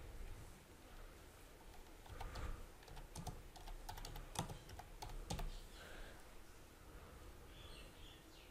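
Faint, distant tapping on a computer keyboard as a poll question is entered on a website, scattered clicks in short bursts over a quiet hiss.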